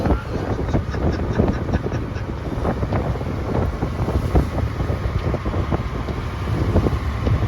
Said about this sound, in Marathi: आपले समोर पण वारा भरपूर आहे